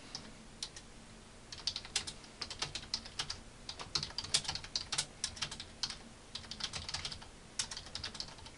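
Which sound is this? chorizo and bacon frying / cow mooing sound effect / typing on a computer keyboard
typing on a computer keyboard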